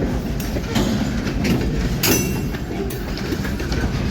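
Freight train rolling past at close range, a continuous heavy rumble with rhythmic wheel clatter and a few sharper metallic bursts.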